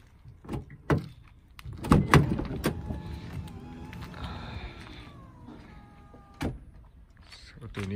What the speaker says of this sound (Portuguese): Olha só como a porta abre.